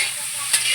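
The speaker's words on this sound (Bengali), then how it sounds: "এখন কিন্তু আমের চাটনিটা হচ্ছে।" Mango chutney cooks in a pan, a soft sizzle with a brief stirring scrape near the end of a very short moment, close and alone.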